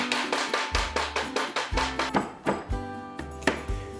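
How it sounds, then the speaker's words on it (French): A hammer strikes ice cubes wrapped in a cloth kitchen towel, a quick run of sharp muffled thuds in an uneven rhythm, close and alone. "Prenez un marteau et tapez-les."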